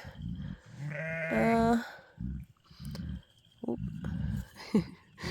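Newborn purebred St. Croix lambs bleat close by, several wavering cries rising and breaking, with short gaps and softer calls between them and some rustling and handling noise in the background.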